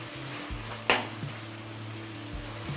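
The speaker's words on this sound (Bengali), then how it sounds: "আদা রসুন আর কাঁচা লঙ্কার পেস্ট দিয়ে মিনিট পাঁচটা হাই ফ্লেমে কষিয়ে নিয়েছি" Ginger, garlic and green chilli paste frying on a high flame in a pan, a steady close sizzle with a sharp scrape or clink partway through and low clattering underneath.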